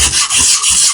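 Coarse 80 grit sandpaper rasps over Bondo on a miniature in quick back-and-forth strokes, loud and close with a gritty hiss on each pass.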